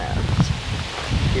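Wind gusts across the microphone and stirs rustling leaves outdoors in New England, a breathy low rumble that rises and falls while people talk nearby.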